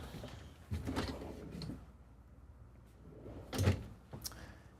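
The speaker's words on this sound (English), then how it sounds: "We have 3 full pull-out drawers, and these all have the soft close feature to it." Soft-close pull-out drawers in a 2023 Winnebago Navion 24J RV slide shut in a few quiet, muffled thuds and rolling rumbles, faint and close.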